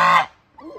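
A goose on a farm near a barn honks twice: a loud, close, nasal blast, then a short gap and a second, softer honk starting.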